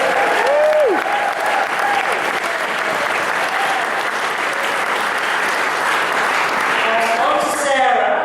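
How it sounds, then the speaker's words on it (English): Guests at an 80th birthday party break into sustained, dense applause for several seconds, loud and close, with a few voices briefly calling out at the start and toward the end. "and a big clap for Kate."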